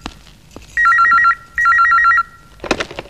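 An old-style telephone rings in an Odia film, two loud, close bursts of rapid electronic trilling separated by a short pause, followed by a brief clatter.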